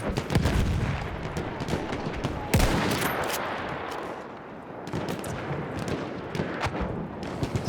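Dense gunfire in the World War I shooter Battlefield 1: overlapping rifle and machine-gun bursts with booming impacts, loud and continuous, with a heavy blast near the middle.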